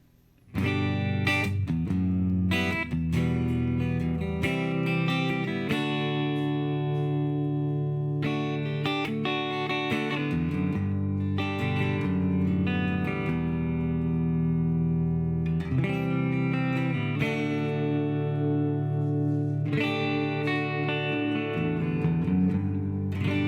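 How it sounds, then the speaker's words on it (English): An electric guitar plays chords and single notes through a Fender Mustang Micro headphone amp set to spring reverb, the tones ringing and washing together continuously and loudly, with no talking. "Next up we got spring reverb"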